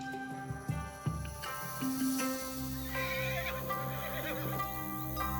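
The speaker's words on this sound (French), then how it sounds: "Le cheval d'Eri s'appelle Hope" A gelding used for yabusame, Japanese horseback archery, whinnies in a long, wavering neigh over faint background noise, with a few soft thumps near the start.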